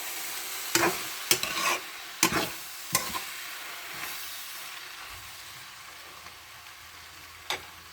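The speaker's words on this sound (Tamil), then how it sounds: "நல்லா கிண்டி விட்டுக்கலாம்." A spoon stirs turmeric and spices through a frying mixture in a pan for fish rotti, giving several sharp scraping strokes early on, then a soft steady sizzle with one more scrape near the end, close and with no talking.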